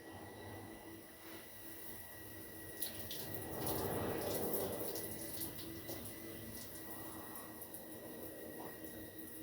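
Water runs steadily, hissing and splashing, and swells louder for a few seconds in the middle before settling back to a constant flow, while wet-sanding the paint of a 1966 Mustang.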